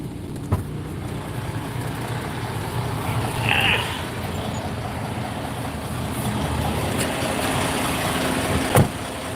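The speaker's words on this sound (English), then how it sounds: "Left the truck running so I could get it cooled down in there." A rental truck's engine idles steadily outdoors on a bright day, a low continuous rumble that holds through the clip, with a couple of brief knocks and faint background noise.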